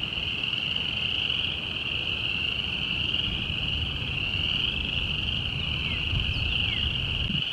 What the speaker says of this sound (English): I hear the spring peepers in the background.